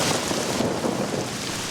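Heavy thunderstorm rain pours steadily with a low rumbling undertone, a continuous dense wash of sound used as an effect in a radio advertisement for farmers.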